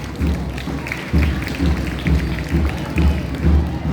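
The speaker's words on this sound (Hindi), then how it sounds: "तालियां हो जाए।" A school audience applauds a Class IX student's Independence Day speech at a 15 August celebration, with many hands clapping in loud, overlapping waves that swell and ease several times in a large open space.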